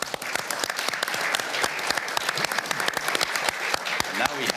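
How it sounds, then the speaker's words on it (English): Audience applause fills a session on land restoration for a sustainable future at the World Economic Forum Annual Meeting 2025, with steady dense clapping throughout and a few louder individual claps near the end. "Round of applause."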